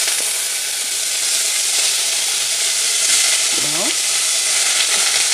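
Washed meat sears in a hot pan for stuffed cabbage, giving a loud, steady sizzle and hiss that lasts throughout, with a brief spoken word near the end.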